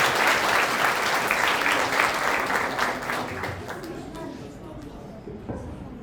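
Strong applause from a ceremony audience welcoming a teacher to the stage at a Quran students' graduation, a dense loud wash of clapping that gradually fades toward the end.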